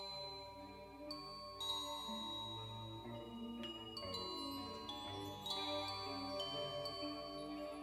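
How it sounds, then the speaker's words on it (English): Small bells or wind chimes ring softly to open a song played live in Rotterdam in 2007, with scattered high tinkling strikes over a quiet, sustained musical bed. "Another song they're starting with little bells or chimes."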